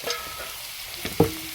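Chopped green papaya hitting hot oil with mustard seeds, dried chillies, ginger and garlic, a soft sizzle followed by a sharp clatter and burst of frying as the pieces go in.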